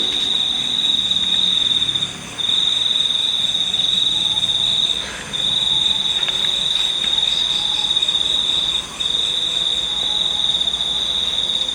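Crickets chirp outdoors among grass and plants, a continuous high shrill trill running steadily for about twelve seconds with a few brief pauses, close and prominent over faint background ambience.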